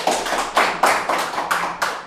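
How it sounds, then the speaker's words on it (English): A small group claps at a chess debate event in Kenya, giving a short run of uneven, rhythmic bursts that swell and fade several times, fairly close, with no talk over it. "Hand of applause, please."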